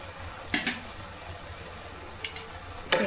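Carrot halwa with chopped cashews and soaked raisins is stirred in a pan, giving a low simmering hiss and three brief spatula scrapes, quiet and with no one speaking.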